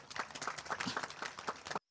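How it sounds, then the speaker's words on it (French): An audience applauds the director general at an RTI ceremony for former workers: a short, faint burst of dense clapping lasting under two seconds and cutting off abruptly. "Je vous demande d'applaudir, monsieur le directeur général."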